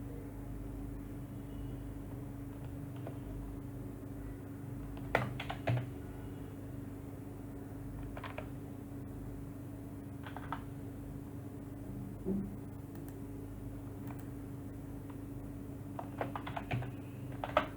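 Quiet bursts of keystrokes on a computer keyboard during Windows 11 setup, short irregular clusters of clicks spread across the stretch over a steady low hum, with no talking.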